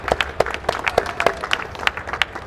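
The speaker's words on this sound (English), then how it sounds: "I shouldn't clap for myself." Applause at the end of a Game Developers Conference talk, with a presenter clapping along; a steady run of fairly close, even claps with a roomy crowd spread behind them and no speech.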